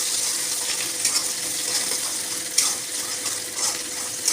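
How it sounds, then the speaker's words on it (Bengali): Onions sizzle in a pan with a bright, continuous frying hiss and a few small pops and stirring scrapes, alone without talk. "তো পেঁয়াজটা ভাজতে থাকুক"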